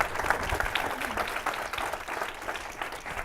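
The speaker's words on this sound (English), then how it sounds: "Let's seriously give them a big round of applause." A crowd claps steadily in sustained applause, fairly close and continuous, with no voices standing out.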